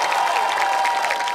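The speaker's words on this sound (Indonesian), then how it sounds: "Tepuk tangan dong." Studio audience applause on a comedy news show, a short burst of dense clapping heard throughout, with a faint tone under it.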